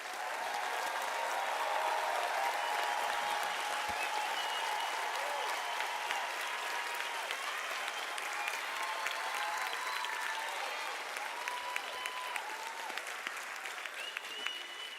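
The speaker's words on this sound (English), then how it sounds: "I believe the graduates deserve a thunderous round of applause." Sustained applause from a large audience for graduates at a university graduation ceremony, a steady wash of many clapping hands heard at some distance, continuing evenly throughout.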